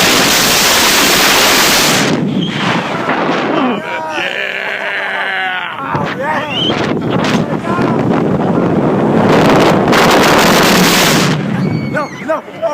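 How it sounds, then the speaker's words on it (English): Strong wind hammering the microphone outdoors on a windy day at the Texas Skyscreamer ride: loud roaring gusts with a short lull partway through, and voices faintly heard under the buffeting. "Oh my god, it's so windy."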